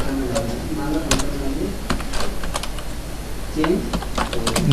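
Keys clatter on a computer keyboard in quick irregular bursts while C++ code is typed, fairly close and loud, with someone talking over the tapping.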